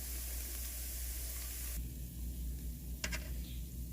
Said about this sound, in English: Then I drain it off in the strainer to get the excess grease.